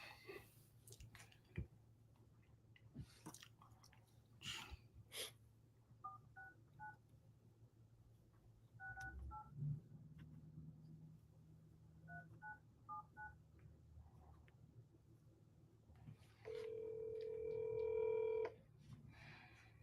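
A phone call plays out with a series of faint telephone keypad tones, then a louder ringback tone near the end, against a quiet background.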